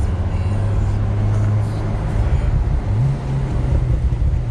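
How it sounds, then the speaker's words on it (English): A Porsche 911 Turbo S drives along the Tail of the Dragon road with a steady, loud engine and turbo drone throughout, its pitch shifting slightly partway through. "Oh man, those turbos. You can hear them so loud too."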